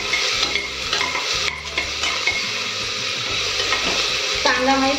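Finely chopped onion and curry leaves fry loudly in a pan for a Nashik-style misal pav. The sizzle is dense and continuous, with stirring strokes scraping through it.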